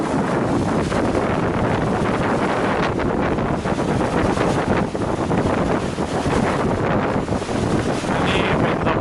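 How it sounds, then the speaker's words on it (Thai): A loud, constant roar of a Chao Phraya express boat engine, heard from the stern, fills the whole stretch, rough and unbroken, with wind buffeting the microphone. "ท้ายเรือเสียงเครื่องยนต์จะดังมาก"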